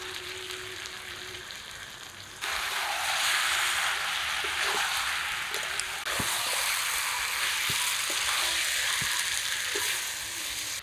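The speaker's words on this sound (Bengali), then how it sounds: "তেল এঁচড় একদম হাই হিটে ভালোভাবে কষিয়ে নিলাম" Chopped young jackfruit (echor) sizzles and fries loudly in mutton fat over high heat, a steady broadband hiss with scattered stirring clicks, louder after the first couple of seconds.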